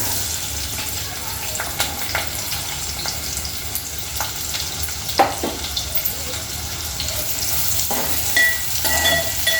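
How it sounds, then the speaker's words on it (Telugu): Sliced onions frying in hot oil for an amaranth leaf stir-fry, a continuous close crackling sizzle with occasional stirring clicks throughout. "ఆయిల్ వేడైందండి ఉల్లిపాయలు వేసేసుకుందాం"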